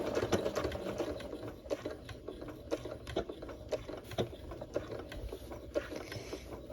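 A sewing machine stitches a few forward stitches and then a few backward ones, making a close, quiet, rapid mechanical patter with slight rhythmic clicks.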